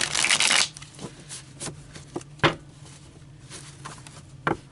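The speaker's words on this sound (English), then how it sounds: "I'm just going to go ahead and shuffle." A deck of cards is riffled with a quick fluttering burst, followed by several soft taps and shuffles spaced out over a few seconds.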